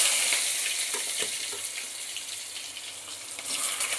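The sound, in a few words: boiled potato and teasel gourd frying in oil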